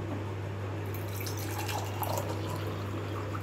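Hot drinking water pours in a steady, continuous stream, running loud and close with a constant low hum underneath and no talking.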